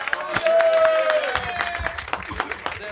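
At a football club's season presentation in Riccione, an audience gives a brief burst of scattered applause, with sharp individual claps over a voice and light crowd noise.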